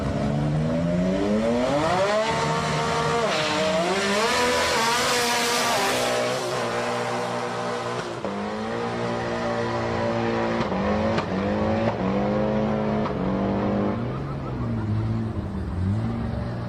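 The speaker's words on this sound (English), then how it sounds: "Those 20B Cosmos aren't something you see drag racing very often." A Mazda Cosmo with a 20B rotary engine drag racing at Sendai Highland, its engine screaming loudly and continuously, rising and falling in pitch through hard revs and gear changes.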